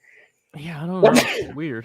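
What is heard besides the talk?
sneeze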